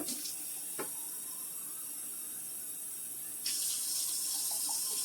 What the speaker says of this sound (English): So take my can and fill it to the top.